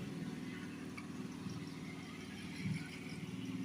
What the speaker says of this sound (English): Sounds like a lawnmower engine, doesn't it?